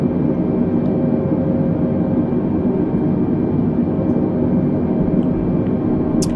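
Steady airliner cabin drone of an Airbus A320neo cruising and descending toward 16,000 feet in a flight simulator game, a continuous broadband engine and airflow rumble holding even and loud throughout with no talk.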